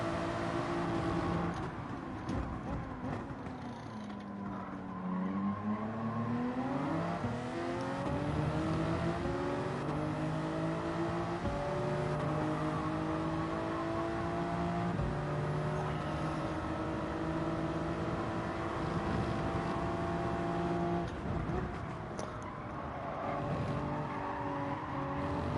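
Toyota Supra race car in Gran Turismo 7 at Suzuka, its engine droning steadily and rising and falling in pitch through shifts for the whole stretch, with other cars' engines layered in.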